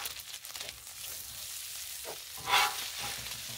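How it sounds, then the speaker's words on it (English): Butter and bacon grease sizzle steadily in a pan, a soft continuous frying crackle with a brief louder hiss flaring near the end. "So I got a little butter down on this side and just a little bit of bacon grease."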